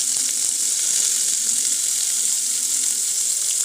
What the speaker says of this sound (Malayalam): അതിനുശേഷം അരിഞ്ഞു വെച്ചിരിക്കുന്ന ഉള്ളി, മുളക്, ഇഞ്ചി, വേപ്പില എന്നിവയൊക്കെ ഇതിലിട്ട് നന്നായി വഴറ്റിയെടുക്കുക.